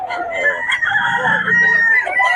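A Golden Monkey Sweater rooster crows loudly and close by in one sustained call, with someone talking over it at a poultry sale.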